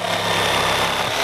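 A jigsaw cutting through wood, a steady, loud, close buzzing whine from the motor and blade that holds constant throughout.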